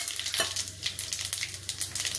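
Whole cumin, dried chilies and whole garam masala sizzling in hot mustard oil and ghee: a dense, continuous crackle and spatter, close and fairly loud, with no voices.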